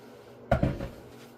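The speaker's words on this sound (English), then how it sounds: "Now in the oven it'll go to bake." An oven door shuts with a solid thunk and a quick rattling second knock after a pan of homemade cornbread goes in, one close impact in a quiet kitchen.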